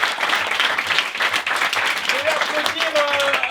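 A theatre audience applauds in a steady, dense wash of clapping at a comedy show, with a voice briefly talking over the noise near the end.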